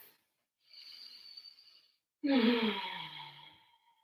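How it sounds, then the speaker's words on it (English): Deep breathing during an energizing yoga flow: a slow, airy inhale followed by a louder, sighing exhale, close and unaccompanied by talk. "Start to deepen the breath."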